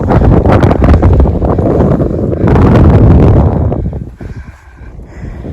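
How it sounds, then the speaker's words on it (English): Strong wind buffeting a microphone on a hilltop with ancient mound-like earthworks in Wisconsin, a loud continuous roar with gusty swells that eases near the end, no talking. "because it's really windy"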